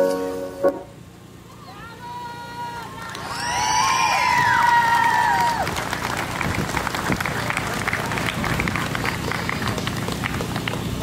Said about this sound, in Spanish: Otra vez un aplauso.